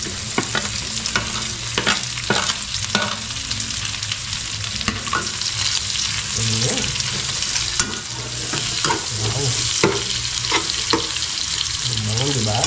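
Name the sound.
onions frying and sizzling in a pan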